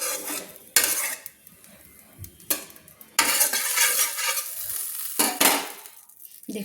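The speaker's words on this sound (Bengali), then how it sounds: "দিয়ে দিলাম 1 টিস্পুন সরষের তেল, দিয়ে আমি খুন্তি দিয়ে নেড়ে নিচ্ছি" A metal spatula stirs and scrapes shrimp-head fritters frying in mustard oil, several loud scraping strokes over a continuous sizzle, close by.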